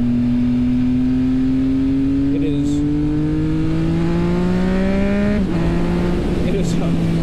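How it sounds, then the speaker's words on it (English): A Triumph Speed Triple motorcycle riding close by pulls hard, its loud engine note rising steadily. It dips briefly as the throttle changes, then carries on with a rougher exhaust burble. "when you roll off, you get that burble too out of them."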